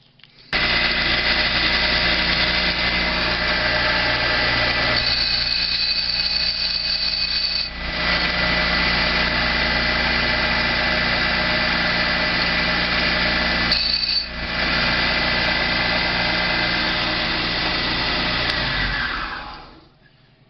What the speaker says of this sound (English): Take over to the sander and see if I could just quick tap the edge on here